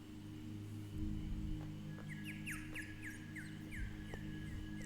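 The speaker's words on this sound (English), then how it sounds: "Birds." Chirping bird calls woven into a folk-fusion song, with a quick run of bright chirps sitting over steady, sustained music.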